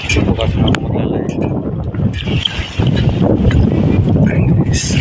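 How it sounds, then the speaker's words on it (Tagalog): Strong wind roars across a farm and buffets the microphone with heavy, continuous low rumbling. A voice is partly audible beneath the gusts. "Malakas ang hangin."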